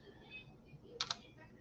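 Two quick keystrokes on a computer keyboard while a website address is entered in a dark room, faint clicks near the end over a quiet room hum.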